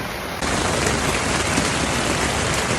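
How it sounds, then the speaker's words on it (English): Heavy rain pounds on a camping tent, a dense steady hiss that swells abruptly louder after a brief moment and stays constant. "Stop raining!"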